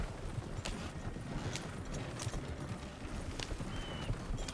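Horse hooves clip-clop in a video game in a steady, quick rhythm over a dense rumbling background, fairly close and moderately loud.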